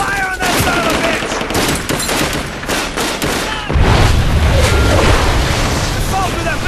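Gunfire in the video game Brothers in Arms: Hell's Highway, a loud sustained fusillade of rifle and machine-gun bursts with booms, mixed with shouted voices over the battle.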